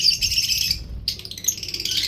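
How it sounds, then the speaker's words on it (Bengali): Java sparrows chirping close by in a cage, a dense run of high, bright tweets that briefly pauses mid-way and then resumes. "এই জাবা পাখিগুলো কত কিউট দেখেন"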